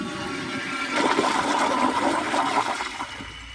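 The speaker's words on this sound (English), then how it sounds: "here's another flush" A Kohler Kingston toilet on a flushometer flushes with a forceful close rush of water that swells and then tapers off, heard alone with no voices.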